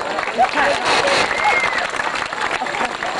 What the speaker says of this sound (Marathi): आवडली की टाळ्या वाजवा जरा.